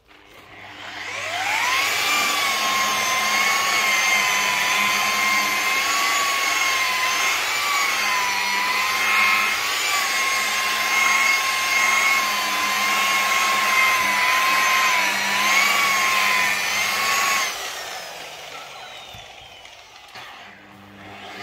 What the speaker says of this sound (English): I'm just going to polish this area up now